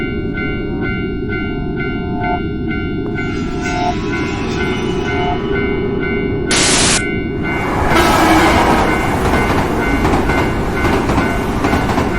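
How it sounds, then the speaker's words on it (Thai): A train runs on railway tracks in the horror video game Tsugunohi, its heavy wheel rumble rolling steadily beneath tonal game ambience. A brief hiss and a swelling roar come in the second half. "พาให้เดินเข้าไปตามเสียงของรางรถไฟนั่น"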